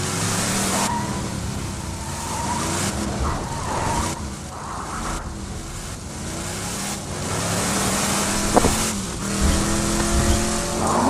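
A vehicle drives in Borderlands 2 with a steady engine drone that rises and falls through gear changes, broken by tire squeals and skidding, loud and continuous throughout.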